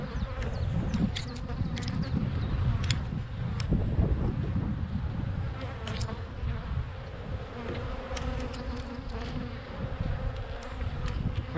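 Honeybees at an open hive during the first spring inspection keep up a dense, steady buzz throughout, close and loud, with wind rumbling against the microphone and occasional individual bees zipping past.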